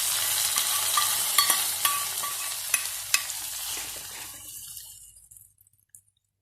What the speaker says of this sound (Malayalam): കടുക് താളിച്ച് നമുക്ക് മീൻകറിയിലേക്ക് ഒഴിച്ചു കൊടുക്കാം.